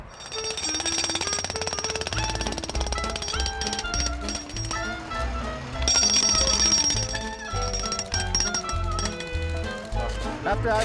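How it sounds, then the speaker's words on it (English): A jackhammer rattles continuously and loudly, breaking up city street pavement to repair a pothole, with steady pounding throughout and faint mechanical ringing over it. "After we jackhammer the pothole"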